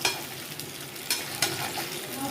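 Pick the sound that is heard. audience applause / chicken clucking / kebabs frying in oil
kebabs frying in oil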